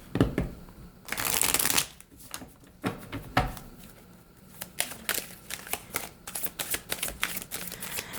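A Morgan Greer tarot deck is shuffled up close, with a long riffling burst followed by irregular crisp card flicks and taps.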